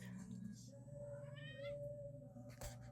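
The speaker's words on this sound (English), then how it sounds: "Oh my God, cats." Cats meow indoors at home, a few short mewing calls rising over a steady low household hum with faint background movement and a brief louder clatter near the end.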